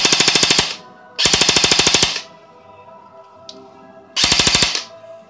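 An Mk18 Mod 1 airsoft gun fires on full auto in three bursts, each a rapid loud clatter of shots lasting about a second, separated by short pauses, with no talk.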